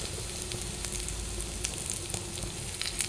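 Curry leaves hit hot oil already frying garlic for an egg omelette dish, giving a loud, dense, close sizzle with sharp spitting crackles throughout, no voices.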